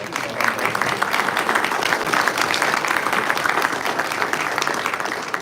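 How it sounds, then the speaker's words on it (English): A crowd at an industry vendor day gives a round of applause for a channel production team, with steady, dense clapping from many people filling the room throughout and no talking over it. "So give these guys a round of applause for that."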